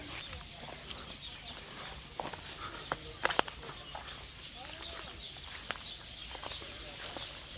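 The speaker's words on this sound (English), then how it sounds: "Those are weaver birds" Scattered weaver bird chirps and calls come from several directions over a faint background, with a few sharper clicks and rustles in between.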